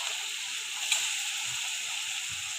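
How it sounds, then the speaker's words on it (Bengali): Cumin powder, coriander powder and chopped tomato sautéing in a pan for a homestyle pasta produce a steady, close sizzling hiss, with one brief louder crackle partway through. "মশলাটাকে ভালোভাবে কষাবো"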